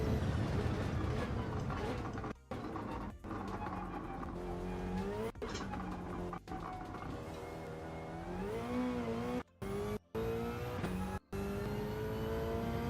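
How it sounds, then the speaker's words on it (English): A turbocharged race car in the Gran Turismo 7 racing game runs with its anti-lag system, giving a steady, rising and falling engine drone with gear-change dips and sharp momentary breaks. "You can hear the anti-lag going on this thing too"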